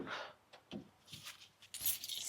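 A bunch of car keys jangles and clinks in several quick bursts, close by, with short pauses between the metallic rattles, in a garage while cars are being winterized.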